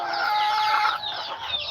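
Native chickens on a farm in Aklan cluck and chatter in a dense, continuous flock chorus, close and fairly loud, with overlapping calls and no talking.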